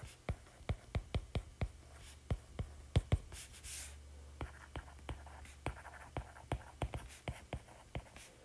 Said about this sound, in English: you count those tally marks. And write out the number.